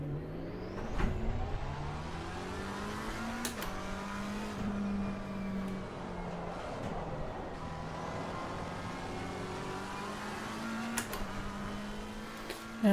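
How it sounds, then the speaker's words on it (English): A McLaren 720S GT3 race car revs in the Assetto Corsa Competizione racing game, its engine note rising and falling through gear changes, loud and steady throughout with no talk. "The McLaren 720S GT3."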